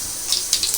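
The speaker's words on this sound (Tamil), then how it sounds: "கடுகு வெந்தயம் பொரிஞ்சிருச்சு" Mustard and fenugreek seeds splutter in hot oil in a dry-heated pan, tempering for a lady's finger mor kuzhambu: a few close, sharp sizzling crackle bursts over a quiet hiss, with no talking.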